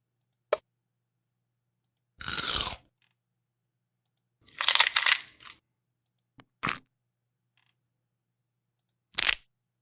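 Several short, dry crunch bursts made as a sound effect for a watermelon, spaced irregularly with silence between, each brief and close, one longer gritty crunch in the middle.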